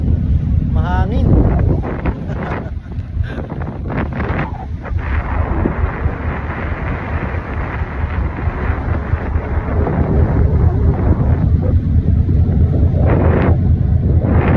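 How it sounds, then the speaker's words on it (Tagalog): Strong wind buffets a fishing boat at sea, a steady roaring rush across the whole stretch with gusts, while someone speaks briefly near the start. "Mahangin."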